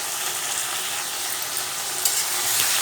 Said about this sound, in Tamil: இது மூடி வச்சு வதக்குவோம்